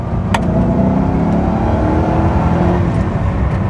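A 2006 Ford GT with a supercharged V8 accelerates hard in second gear, a loud, rising engine roar heard from inside the car, sustained throughout with a brief sharp click near the start.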